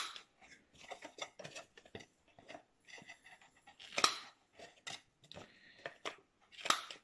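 Paper corner punch rounding the corners of photos for a small scrapbook album, with a few sharp crisp snips and clicks up close, interspersed with soft paper handling and rustling, with no talk.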